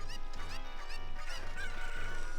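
A chicken clucks in The Legend of Zelda: Ocarina of Time, its short repeated game squawks sitting over steady background music and effects.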